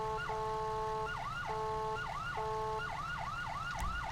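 An emergency vehicle siren wails continuously, cycling between a steady tone and rapid swooping yelps, loud and close with road noise underneath.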